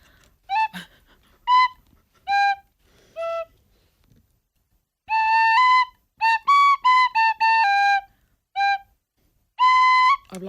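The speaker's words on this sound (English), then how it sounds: "My tin whistle skills are really been put to the test today." A tin whistle plays short tune phrases in bright, clear bursts separated by pauses, near and loud, with no talking over it.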